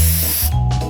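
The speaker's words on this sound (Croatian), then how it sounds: "Imam sprej za hlađenje." A can of cooling spray hisses in one loud, close, continuous burst used to freeze a homemade treat, the spray cutting out briefly near the end before a short second hiss.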